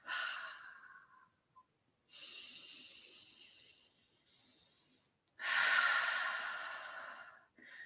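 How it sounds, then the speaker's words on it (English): Slow, deep breaths in through the nose and out through the mouth, drawn from the belly: three close, soft airy inhale-exhale passes separated by quiet pauses, with the final exhale the loudest and longest. "making sure that you're breathing deeply from your belly, in through your nose and out through your mouth"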